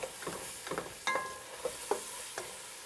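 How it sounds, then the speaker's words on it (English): Spoon stirring teff pancake batter mixed with lentils in a bowl, a few soft scraping and wet swishing strokes at close range, quiet and alone without talk. "Let me just stir that up a little bit."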